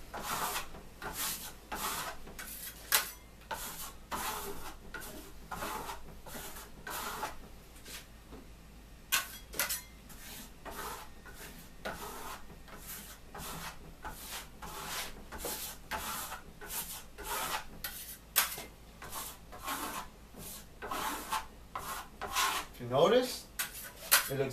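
A trowel rasps rhythmically over a wall while laying a second coat of Dune Gold decorative plaster, a long run of repeated scraping strokes that stays close and fairly quiet and pauses briefly partway through.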